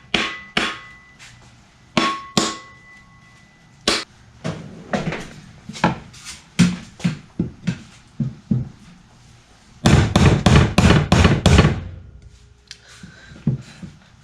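Hammer blows knocking a loose axe head off its wooden handle during an old axe restoration, a series of sharp, loud wooden knocks with pauses, then a fast rapid burst of strikes before a few final taps.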